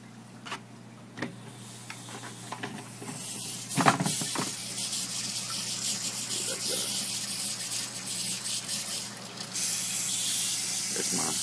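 Water flows steadily from a hydroponic return line fitted with a salt filter, with bubblers running in the tank. A continuous broadband rush builds after a few seconds and holds at an even level, with a few faint knocks earlier.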